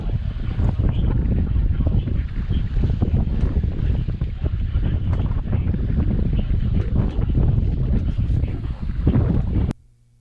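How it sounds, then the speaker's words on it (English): Strong wind roaring and buffeting steadily on a sailboat as a thunderstorm nears on the Chesapeake Bay, with rumbling microphone gusts and a hint of water, cutting off abruptly at the end. "The wind started gusting up"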